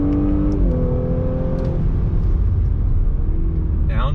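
A 2021 Audi S5 Sportback with a turbocharged engine pulls hard in second gear, shifted manually with the paddles. Its rising engine note is loud and close, with a steady rumble and a quick shift-like change partway through.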